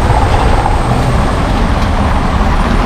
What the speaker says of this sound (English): Friday morning traffic, man.